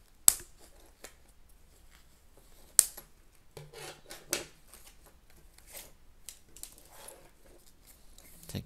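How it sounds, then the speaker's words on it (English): Sharp snips and crinkly rustling as packaging is cut open up close, with scattered rubbing and handling noises between the cuts. "so I got some scissors, so let's go ahead and open this up."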